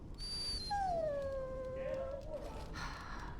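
Dog in the Dragon Age: Origins video game giving a long drawn-out whimper that slides down in pitch, fairly close and soft over a quiet background hum, followed by brief rustling.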